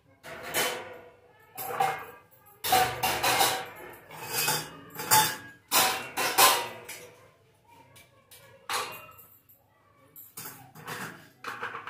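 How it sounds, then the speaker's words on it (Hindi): Dishes and pots being washed in a home kitchen, with a series of irregular clattering and clinking bursts separated by short pauses, close and fairly loud, with no speech. "तो जी सबसे पहले करूँगी बर्तन साफ।"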